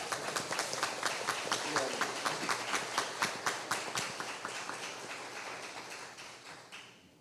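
Audience applause at an assembly, with clear rhythmic hand claps standing out over a crowd, moderately loud and tapering off toward the end.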